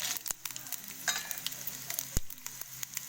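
Cumin seeds and dried red chillies fry in hot oil as the tempering for a Telangana thummi curry dal, a soft, close crackling sizzle with a few sharp pops.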